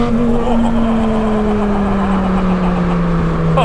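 A 2008 Lamborghini Gallardo Spider on Michelin Pilot Sport 4S tires pulls under power, its engine a loud, steady tone that slowly drops in pitch as it runs, heard from inside with wind and road noise.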